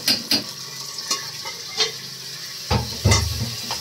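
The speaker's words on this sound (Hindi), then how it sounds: "आप इसी को भी शोरवा लेके इसे भून दीजिए, आप इसे अच्छी तरह चला दीजिए पहले।" A spoon scrapes repeatedly around a pressure cooker in rhythmic strokes while masala fries and sizzles steadily underneath, close and clear.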